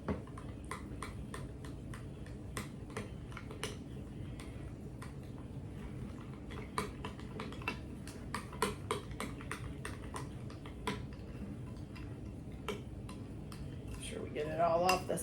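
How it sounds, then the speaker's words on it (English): Sauce being stirred in a bowl with a utensil, giving a steady run of light clinks and taps against the sides, close by under soft room noise, with a voice talking near the end. "so then you're just gonna stir this up"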